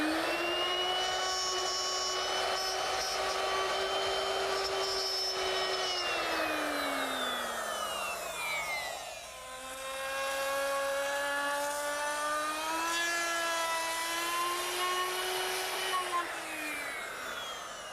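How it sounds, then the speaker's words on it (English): A router fitted with a 1/2 inch dovetailing bit runs at a steady high whine, then briefly drops in pitch during a short cutting pass along the bottom of a wood rabbet before spinning back up. The sound is loud and continuous, with no talk. "now I've put a 1/2 inch dovetailing bit in my router, and I'm going to make a little short pass at the bottom of this rabbet"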